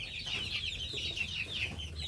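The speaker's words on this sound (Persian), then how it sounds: "جوجه درجه یک ابریشمی" Two-month-old silkie chicks clucking softly, a quiet, steady run of repeated high chirps and clucks with faint low background noise and no talking.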